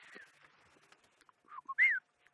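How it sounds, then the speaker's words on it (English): A black-headed oriole gives clear, liquid whistled notes on a safari sunset drive, a few short calls followed by a louder rising-falling whistle near the end, fairly close against a quiet background. "A black-headed oriole that's been chirping away at me."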